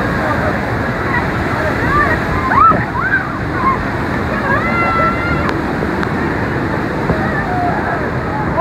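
Water pours and rushes loudly from close beneath a waterfall, a constant broadband roar that stays steady throughout, with faint scattered higher sounds within it.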